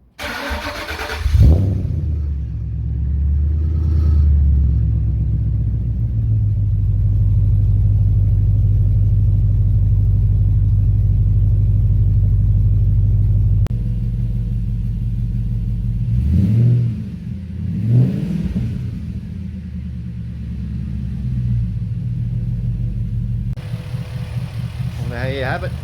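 A Ford Falcon XR8 with the 5.4-litre BOSS V8 cranks and fires, then settles into a loud, steady idle with a couple of sharp revs later on, close to the microphone.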